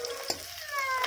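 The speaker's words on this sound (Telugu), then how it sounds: "కరివేపాకు వేగిన తర్వాత ఇలా కొద్దిగా వేగిన తర్వాత అల్లం వెల్లుల్లి పేస్ట్ వేసి" Ginger garlic paste frying in hot oil with curry leaves for cabbage gobi, a brief soft sizzle with one sharp knock near the start and a thin whistling tone over the hiss.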